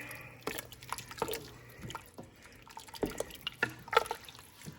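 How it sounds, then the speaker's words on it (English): Canned diced tomatoes are stirred into a pot of beef soup with soft, wet sloshing and spoon clinks against the pot, quiet and close, in irregular bursts. "So I'm going to go ahead and stir that in there"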